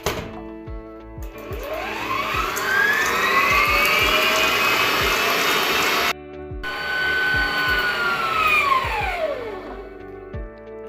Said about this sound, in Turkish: Bunları iyice köpük köpük beyaz olana kadar çırpacağım.